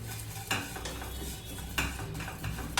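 Black peppercorns dry-roasting in a pan for a cumin masala juice, a steady scratchy rustle with occasional sharper scrapes as they are stirred, close and continuous with no talking.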